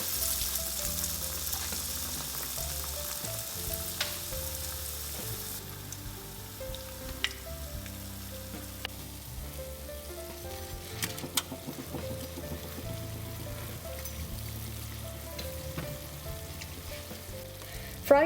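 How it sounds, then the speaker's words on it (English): Medu vada batter fries in hot oil with a continuous, moderately quiet sizzle and fine crackling bubbles throughout, no voices. "Let's fry the batter in oil."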